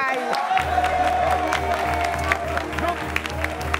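An audience at a live event breaks into applause, a dense continuous patter of many hands under a sustained low musical drone, with occasional whoops and voices mixed in.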